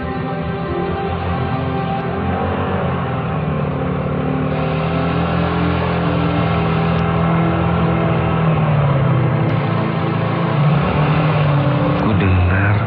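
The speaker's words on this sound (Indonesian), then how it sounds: "ada bunyi sepeda motor" Motorcycle engine sound effect in an Indonesian radio horror drama, a steady engine drone with shifting pitch, rising slightly toward the end as if approaching on a night road, with faint talk-like texture beneath.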